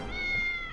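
A cartoon cat gives a single short meow, clear and close, lasting under a second over a faint background.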